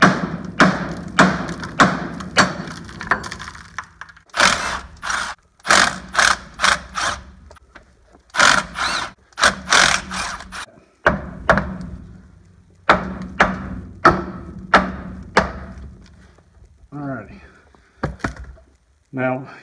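A socket ratchet clicks in repeated bursts while backing out 8mm bolts on a truck's rear brakes, with sharp close ratcheting runs, pauses and a few knocks, and someone talking briefly in between.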